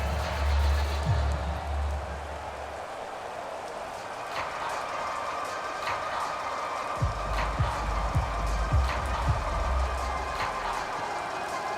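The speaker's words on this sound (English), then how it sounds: "The rain set to continue as we are underway in the second half." Steady rain falls over a football stadium during a Madden NFL 22 game, a continuous dense hiss with scattered patter lasting throughout, with low rumbling noise at times.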